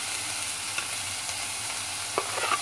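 Cabbage fries in a pan with a soft continuous sizzle while being stirred, with a few light scraping clinks of the utensil near the end and no voices.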